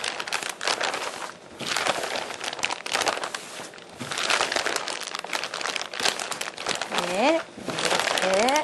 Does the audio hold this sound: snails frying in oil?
no